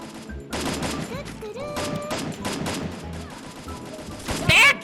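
Rapid bursts of gunfire in the video game Free Fire crackle over music and effects, with a person talking excitedly in Thai over the shooting.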